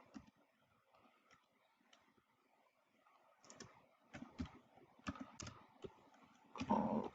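Fingers type on a computer keyboard in a quiet room, with soft scattered keystrokes that grow louder and quicker toward the end, closing on a sharper burst of taps.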